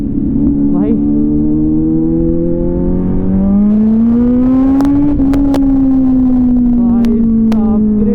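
Kawasaki Z900 motorcycle at speed on a highway, a loud continuous engine drone whose pitch climbs steadily as it accelerates, with wind roar throughout and a few sharp pops near the end.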